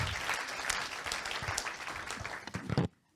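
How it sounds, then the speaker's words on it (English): Audience applause at an infrastructure industry week event, a dense steady wash of clapping that carries on for nearly three seconds before breaking off abruptly into near silence. "one big applause for organizers as well as for those future change makers"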